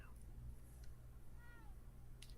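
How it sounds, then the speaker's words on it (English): A cat gives a couple of short, faint meows over a low, steady background hum, with a sharp click near the end. "Such a chatty catty."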